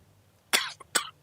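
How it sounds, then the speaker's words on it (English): Two quick, sharp coughs from one person, close and fairly loud, the second following about half a second after the first, with near silence around them during a World of Tanks live stream. "Got a little coughing issue going on here."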